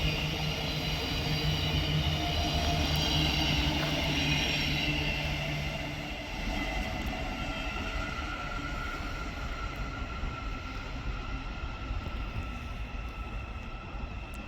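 An LNER class 800 Zoomer train passes at Hatfield on the East Coast Main Line, a broad rumbling roar that holds strong, then eases to a softer, steady rush.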